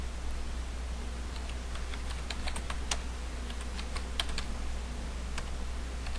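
A console password is typed on a computer keyboard while configuring a network switch: a quiet run of irregular key clicks over a low, constant background hum, with no talking.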